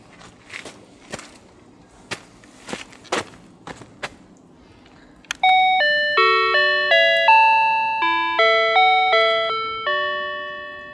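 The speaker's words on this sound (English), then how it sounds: "This is a chime, a bell from the door of Family Mart in Japan." A door chime from a Family Mart convenience store in Japan plays its bright multi-note electronic melody, each tone ringing and decaying in a steady sequence, preceded by scattered clicks and handling knocks.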